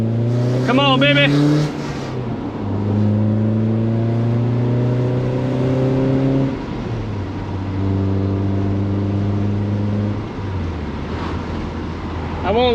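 A manual BMW Z3 pulls hard along back roads, its engine note climbing through the gears in long rising sweeps with shift dips between them, loud and close, while someone talks over it.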